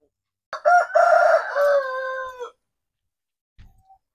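An Australorp rooster on a farm crows once loud and near in a drawn-out call, followed by a brief faint cluck after a pause.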